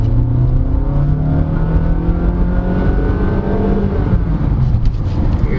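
A 2023 Honda BR-V V in sport mode speeds up toward a bump, its engine whirring loud and close with the pitch climbing steadily under acceleration and road noise throughout.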